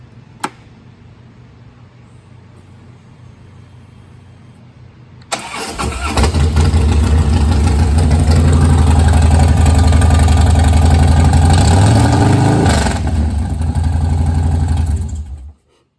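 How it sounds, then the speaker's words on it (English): A 2014 Harley-Davidson Softail Slim with a Bassani exhaust and big intake cranks and fires up after a few quiet seconds, then settles into a loud, steady, close idle before cutting off near the end. "Nice big intake to go with it, and she will fire right up."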